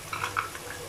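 Masala with yogurt and browned onions being stirred and fried in a pan, a soft steady sizzle with a few brief scraping stir strokes near the start, close and fairly quiet.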